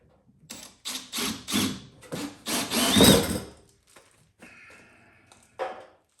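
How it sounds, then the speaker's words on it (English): A drill whirs in repeated short bursts, grinding out the ports of an S&B Filters plastic holding tank for a Sprinter van with rising intensity, then a brief higher whine and a final burst. "You got to drill out these ports, so I'm going to get that going."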